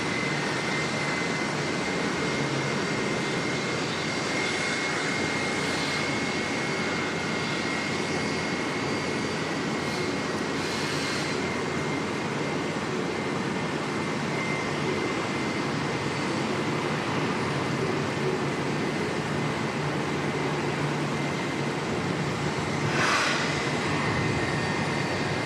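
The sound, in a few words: Qantas flight 151 from Melbourne aircraft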